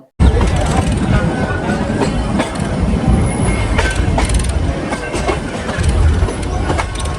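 The Ooty toy train rolls along pushed by its engine at the rear, with a continuous rumble, rhythmic clickety-clack of the wheels and occasional squeals, heard close from on board with faint passenger chatter underneath.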